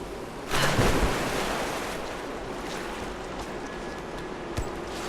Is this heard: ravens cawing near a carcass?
no